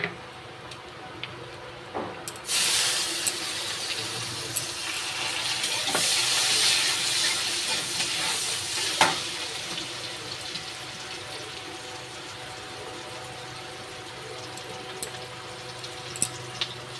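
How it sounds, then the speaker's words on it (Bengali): Onions dropped into hot ghee burst into a loud, hissing sizzle that holds steady for several seconds, then fades to a softer ongoing fry with occasional ticks and pops. "আমি তেলটা গরম করে নিয়েছি, আমি কিন্তু ঘি দিয়েছি।"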